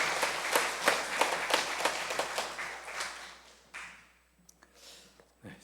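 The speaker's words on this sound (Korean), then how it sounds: "박수 한번 치겠습니다." Congregation applause at a church ordination service, rhythmic clapping from many hands that gradually thins out, ending in a few scattered claps and quiet room noise.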